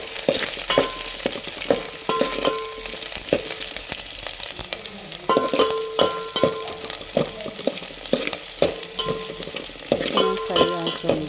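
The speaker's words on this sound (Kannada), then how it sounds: "ಫ್ರೈ ಮಾಡ್ತಾಯಿದ್ದೀನಿ." Chopped onion, mustard seeds and curry leaves frying in oil in a pan for vegetable sambar, giving a steady close sizzle broken by repeated scraping stirs, with no voices.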